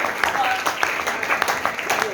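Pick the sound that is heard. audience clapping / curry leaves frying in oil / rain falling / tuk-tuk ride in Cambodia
audience clapping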